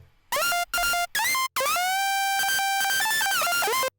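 Dry future riddim synth lead layer built from basic waveforms with pitch automation, starting with three short stabs, then a longer sustained phrase with gliding, stepping pitch, clean and alone at moderate volume.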